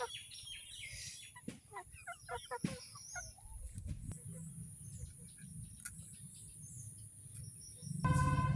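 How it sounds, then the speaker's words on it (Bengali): Several young chickens cluck and chirp softly nearby in a quiet outdoor setting, followed by a brief louder rustle at the end. "বাচ্চা মুরগিগুলি দেখো বড় হয়েছে"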